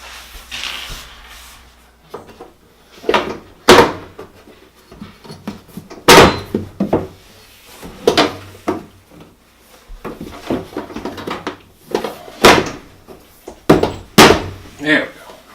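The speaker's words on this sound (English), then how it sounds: "there's a little difficulty getting the rail back up to the front of the drawer." Drawer rail on an Electrolux dryer pushed back into place during repair, giving a series of loud close knocks, clunks and scrapes at irregular intervals while a person talks throughout.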